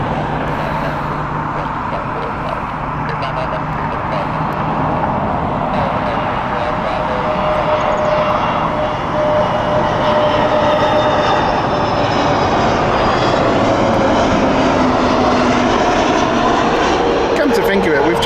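A British Airways jet inbound from Lisbon arrives at Heathrow with a steady, loud engine roar that builds gradually and fills the scene, its pitch shifting slowly as it passes.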